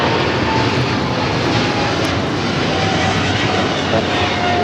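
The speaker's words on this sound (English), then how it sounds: "the Cargo King 222, taking off to Shanghai on the 777 freighter" A China Cargo Airlines Boeing 777 freighter takes off at LAX, its jet engines producing a loud, continuous broadband roar that stays steady and close throughout, with no voices.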